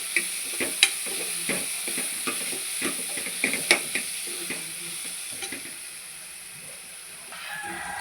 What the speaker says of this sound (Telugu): అల్లం వెల్లుల్లి పేస్ట్ వేసుకొని పేస్ట్ బాగా వేగే వరకు కొంచెం ఫ్రై చేసి